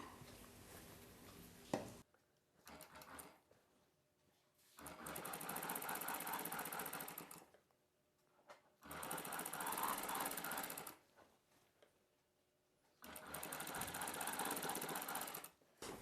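A sewing machine stitching piping onto a blouse runs in three long bursts of fast, steady whirring, separated by quieter pauses with faint handling noise, close and alone.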